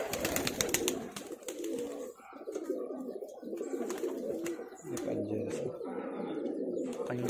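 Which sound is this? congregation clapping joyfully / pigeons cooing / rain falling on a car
pigeons cooing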